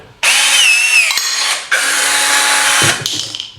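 A battery-powered rivet tool pulls a Cherry Max rivet in two loud, close motor bursts, the first with a rising whine, each ending with an abrupt stop and a sharp click between them.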